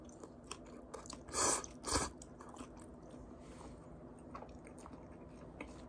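Eating FamilyMart biangbiang noodles, a spicy Chinese-style dish with nuts: two loud, close bursts of slurping and chewing, then quieter intermittent mouth sounds, with no talking.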